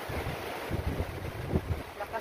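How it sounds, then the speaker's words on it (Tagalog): Strong wind buffets an outdoor spot, producing a steady low rumble of gusts and microphone wind noise, with faint sounds of people nearby. "Lakas ng hangin."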